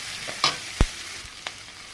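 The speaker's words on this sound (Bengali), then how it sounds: "পেঁয়াজ আর কাঁচা ঝাল ভেজে নিচ্ছে" Onions and green chillies frying in a pan for a spinach and tengra fish curry, a steady soft sizzle with a few sharp spatula clinks and taps over it, close and moderately quiet, no talking.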